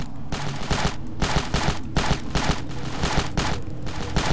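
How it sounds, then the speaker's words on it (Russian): Continuous rifle fire in the video game Ravenfield on a highway map in Haunted Mode, a loud, close, steady stream of rapid shots in repeated bursts lasting the whole stretch, with no talking. "Давай-ка мы, наверное, из винтовочки постреляем"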